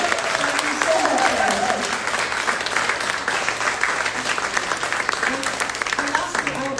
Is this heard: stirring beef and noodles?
no